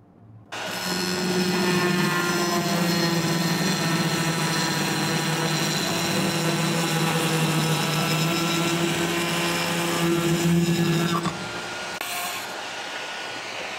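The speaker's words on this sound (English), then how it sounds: "we are going to check results of this stone or marble cutting wheel" An angle grinder fitted with a stone or marble cutting wheel spins up and runs in one loud, steady whining drone for about eleven seconds, then cuts off to quieter background noise.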